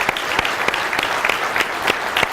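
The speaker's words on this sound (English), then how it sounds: "Let's give Heather a round of applause." Audience applause at a business seminar, a steady wash of many hands clapping with sharper individual claps standing out, loud and close, with no talk over it.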